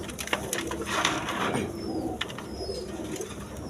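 Fantail (pangki) pigeons cooing nearby in a busy setting, soft repeated coos over steady background noise and a few sharper clicks, with no talking.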